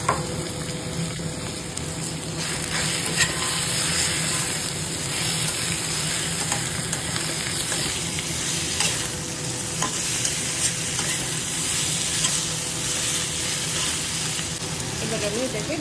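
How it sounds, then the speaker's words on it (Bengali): Chicken fries in a pan with browned onions, producing a loud, constant sizzle mixed with repeated scraping and stirring sounds throughout. "পেঁয়াজটা দেখো ব্রাউন করে ভাজা হয়ে গেছে। এরপরে আমি এর মধ্যে দিয়ে দিলাম চিকেনটা"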